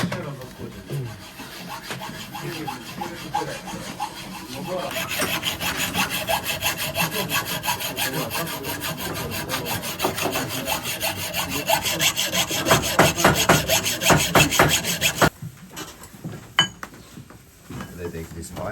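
Scraping and sawing against a munition shell during disassembly, steady rasping strokes that grow louder and more rhythmic, with metallic clinks and people talking over it before the cutting stops abruptly.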